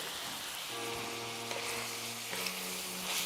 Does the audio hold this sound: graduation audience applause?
no